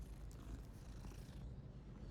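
A cat purring in a Hogwarts video game, a soft continuous rumbling purr, steady and close but quiet, with no talk.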